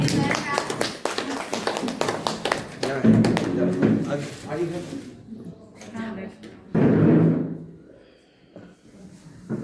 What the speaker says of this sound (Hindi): जोरदार तालियों से स्वागत करते हैं मैम का।